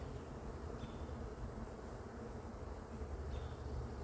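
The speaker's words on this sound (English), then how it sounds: "There's a lot of bees here" Honeybees buzzing in a hive, a dense steady drone of many bees heard up close and continuously, with a couple of faint higher whines passing through.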